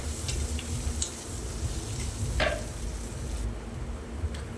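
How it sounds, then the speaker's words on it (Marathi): Chopped onion frying in a pan as it browns, a steady soft sizzle with occasional light ticks and clicks of stirring, close and continuous with no talk. "कांदो व्यवस्थित लालसर येईपर्यंत परतून घ्यायचो"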